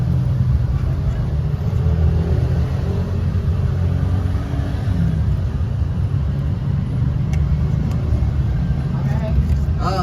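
A Hyundai Starex VGT van with a diesel engine that smokes intermittently runs with a steady, close, low rumble throughout, under someone talking.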